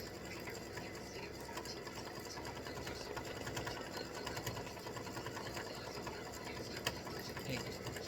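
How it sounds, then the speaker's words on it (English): An embroidery machine sews a satin stitch, a steady fast mechanical needle clatter running continuously at moderate level throughout, with no speech. "When it does the satin stitch, it goes around the top, comes up the side, and goes around the bottom"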